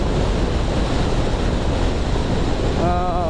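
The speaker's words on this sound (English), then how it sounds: "the wind is extremely strong" Strong, steady wind roaring across the microphone, a dense rushing blast with no pauses, while riding a light motorcycle at speed on a highway.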